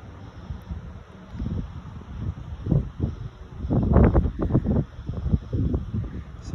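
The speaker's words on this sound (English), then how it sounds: "it's a little bit windy here today." Wind buffets a microphone outdoors, rumbling and gusting unevenly, with stronger gusts around the middle before easing slightly.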